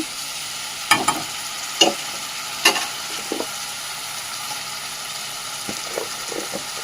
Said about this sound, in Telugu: కారము సాల్ట్ వేసాక ఒకసారి అయితే బాగా కలుపుకుందాము అవి కలిసేంత వరకు